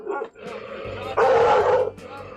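A dog that fails to recognise its owner barks in loud, close yips and woofs, with one longer burst in the middle and voices mixed in.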